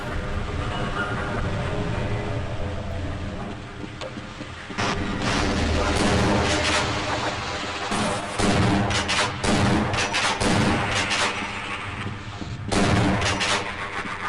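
Shotgun blasts in Half-Life: Blue Shift, several loud booming shots, irregularly spaced, cutting through a dense mechanical rumble, with scattered voices underneath.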